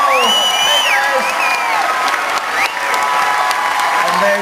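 A large political rally crowd in Orlando cheers, whoops and applauds continuously and loudly at close range, with scattered shouts rising over steady clapping.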